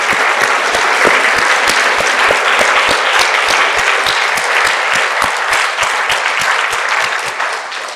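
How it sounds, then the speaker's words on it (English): A symposium audience applauding in a hall, a dense, steady stretch of many hands clapping that holds loud throughout and eases slightly toward the end. "I'll give you another round of applause"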